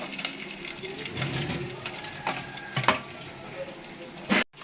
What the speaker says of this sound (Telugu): ఎల్లుల్లిపాయలు వేగుతున్నాయి.